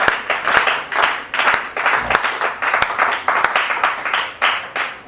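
A church congregation applauds loudly during a sermon, irregular bursts of clapping and cheering rising and falling in waves throughout.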